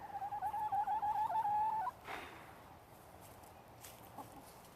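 A hen that has just fallen into a pond and been pulled out gives a run of loud, close squawking clucks for about two seconds, then falls quiet with only faint outdoor background after.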